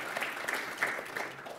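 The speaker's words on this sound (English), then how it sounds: "clap please" A panel audience gives a short burst of light, fairly quiet applause, a loose patter of hand claps lasting only a moment.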